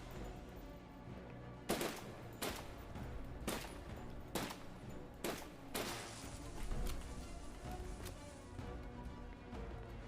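Sharp gunshots from a video game fired at crystals on a boss, about six loud separate blasts spaced roughly half a second to a second apart, over a quiet game background with no talk.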